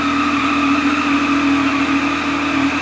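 A loud, steady 2014 Triumph Daytona 675R sport motorcycle engine idle through a stock exhaust, with a constant droning hum and harmonic whine, unbroken throughout.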